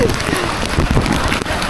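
Heavy monsoon downpour on the road to Tungareshwar pelts a surface in a dense, close, steady patter, with a voice speaking over it.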